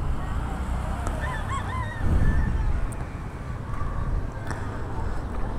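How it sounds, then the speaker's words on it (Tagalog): Chickens in a backyard poultry pen beside a vegetable plot near the Marikina River dike works, clucking faintly and intermittently outdoors amid steady wind and ambient noise. "May manok din dyan, oh, mga manok."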